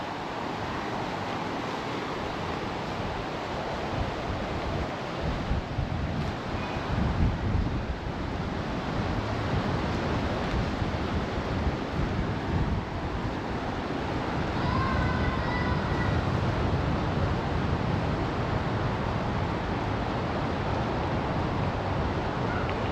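Choppy sea surf and gusting wind on the open sand at South Mission Beach, Queensland, a continuous, close roar of breaking waves and wind buffeting the microphone, holding steady for the whole stretch.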